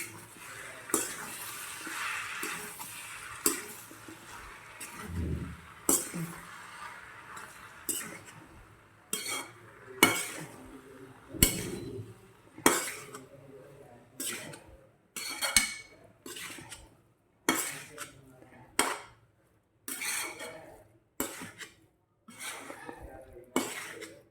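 Mashed potato filling for potato parathas being mixed in a bowl, a series of irregular scraping and clinking strokes of a spoon against the bowl, close and clear with brief pauses between them.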